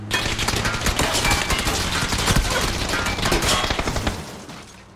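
Rapid bursts of automatic gunfire in a PUBG match, dense and loud for several seconds before fading near the end.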